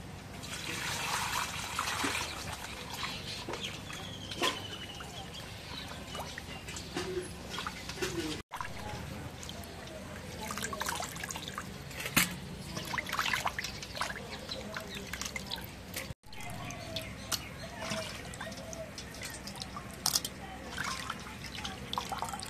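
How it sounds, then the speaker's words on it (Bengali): Running water trickles and splashes steadily as meat is rinsed by hand, with occasional clinks and faint voices in the background. "মাংসটা ধুয়ে নেই"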